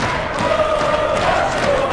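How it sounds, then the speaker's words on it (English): Steady loud roar of a packed Mosconi Cup pool crowd, cheering and chanting throughout with scattered shouts and thumps, no single voice standing out. "No crowd has a better time than the Mosconi-Cup crowd year after year after year"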